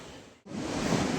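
Sea waves at a beach in front of a resort, a steady loud rushing wash of surf broken by one brief dropout, with no talk.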